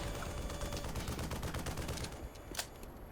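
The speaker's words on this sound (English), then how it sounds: "There's a fucking helicopter that decided to attack us." Helicopter machine-gun fire at the player in Black Mesa, a faint, continuous rapid rattle of shots over rotor noise, easing slightly near the end with one sharp impact.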